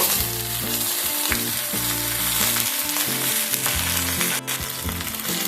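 Eggplant and flat beans tumble into a pan of mixed vegetables already frying, giving a steady, close sizzle with stirring scrapes, while soft background music plays underneath.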